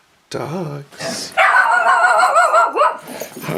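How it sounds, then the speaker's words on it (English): Dogs bark and yip excitedly up close in a short burst, with whimpering, high pitched vocalizations and a voice mixed in. "Dogs."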